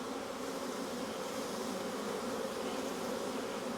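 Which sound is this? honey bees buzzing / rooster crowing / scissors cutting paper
honey bees buzzing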